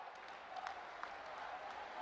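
Large crowd at a public event giving a round of applause, a faint, distant wash of continuous clapping with a few sharper claps standing out.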